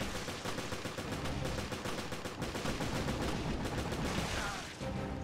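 Rapid gunfire in Resident Evil Revelations, aimed at tentacles, comes as a loud, close string of evenly spaced shots that runs nearly unbroken from start to finish.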